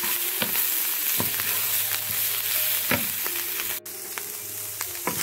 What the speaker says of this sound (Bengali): শুটকির সাথে নিয়ে সব কিছু একসাথে খুব ভালো করে ভেজে নেব